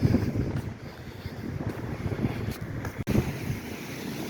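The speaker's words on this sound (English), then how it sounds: "you can definitely notice the wind picking up quite a bit the closer that we get." Strong gusty wind on the Lake St. Clair shore during a gale warning in December, buffeting loudly and steadily over faint lapping waves, with a sharp brief knock partway through.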